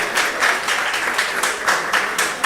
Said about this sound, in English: Yes, let's clap for them.